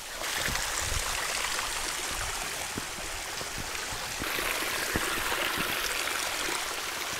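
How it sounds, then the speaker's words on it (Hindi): A mountain stream on the Kalsubai trail in Maharashtra flows steadily and fairly loud, a continuous rushing babble with small splashes, no voices. "पानी चल रहा है तो थोड़ा फिसलन है यहाँ पर"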